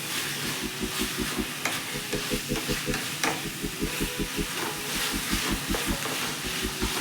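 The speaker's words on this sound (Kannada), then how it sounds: "ನೀಟಾಗಿ ಎಣ್ಣೆ ಬಿಡೋ ತನಕ ಚೆನ್ನಾಗಿ ಫ್ರೈ ಮಾಡ್ಕೋಬೇಕು." Chicken liver and gizzard pepper fry sizzles in oil in a pan, with a steady hiss and a regular, rhythmic scrape of stirring close by.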